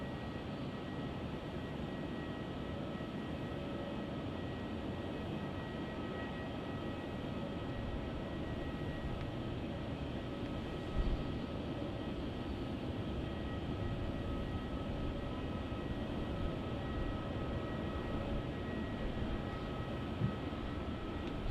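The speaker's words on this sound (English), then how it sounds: "So that there was flight" A Virgin Australia jet, flight VA 679, departing Melbourne Airport gives a steady, broad engine roar that holds at an even level throughout, distant but continuous, with no talk over it.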